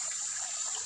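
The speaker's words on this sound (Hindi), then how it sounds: "मोटर में नहाने का कुछ अलग ही मजा है" Water pours steadily from a motor pump outlet during an outdoor bath, a continuous hissing gush close by with no pauses and no talk.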